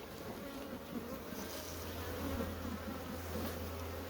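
A swarm of honeybees building comb in a hive makes a dense, continuous buzz close by, with a low steady drone beneath and no talking.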